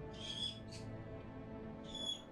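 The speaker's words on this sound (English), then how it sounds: "Are these birds going crazy?" Birds in the video game Man of Medan give sharp, high calls in two short bursts, one early and one near the end, over a low droning background.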